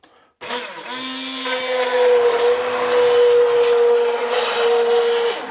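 A stick blender blending root vegetable and lentil soup whirs into life after a brief pause and runs continuously, a loud high motor whine with churning, uneven blending underneath.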